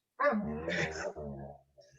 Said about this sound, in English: The dog's singing.